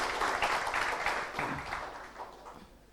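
An audience at a quiz event applauds, a crowd of hands clapping steadily at a distance before gradually fading out.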